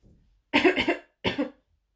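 A voice imitates two harsh, croaky coughs, the first a longer rasping burst and the second shorter, close and loud after a faint breath.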